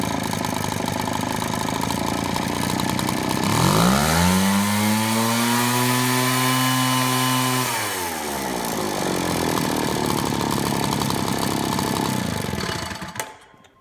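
An Echo leaf blower's small two-stroke engine, fresh from a fuel line replacement, fires up with choke on, revs high and buzzing, then eases back to a rough idle before cutting off, close and loud.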